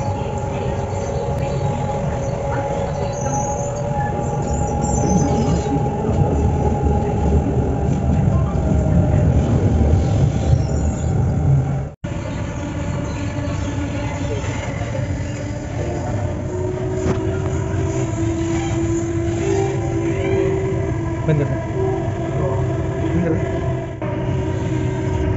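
A Bangalore Namma Metro train on the Purple Line extension between Mysore Road and Kengeri, heard from inside: a steady rumbling ride with a brief dropout midway, then a lighter rolling hum with faint tonal whine as it slows.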